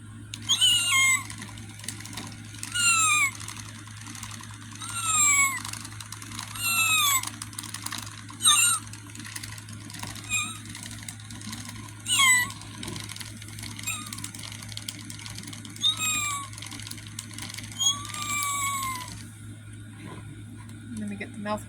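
An animated skeleton cat decoration plays repeated electronic meows from its sound chip, several bright chirpy calls in a loose rhythm over a constant low hum, with mechanical clicks between them.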